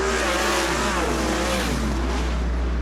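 Western Sprint Tour sprint car at Sunset Speedway Park accelerating hard on the oval, a loud, continuous engine roar building steadily, with other cars blending in the mix and no talking.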